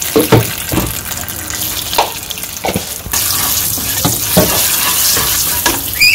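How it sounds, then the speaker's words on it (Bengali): Salt and turmeric hit hot oil in a wok with a loud, close sizzle and scraping stirs, and the hiss swells and stays dense in the second half. "ডিম ভাজার জন্য একটু লবণ আর হলুদ তেলের মধ্যে দিয়ে দিই"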